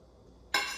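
Comfrey salve liquid is poured into a container: after a silent pause, a sudden close splashing hiss starts and continues steadily to the end.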